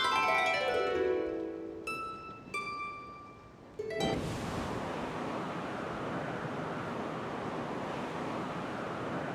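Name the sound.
wind currents across the city in video game Genshin Impact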